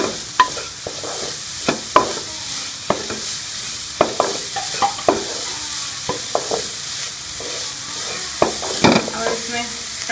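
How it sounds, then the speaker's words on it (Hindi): Chicken with spices sizzles in a frying pan for samosa filling, a steady hiss broken by frequent sharp scrapes and clacks of a spoon stirring, close and moderately loud. "इसको भी हम मिक्स कर लेंगे सारे मसालों को"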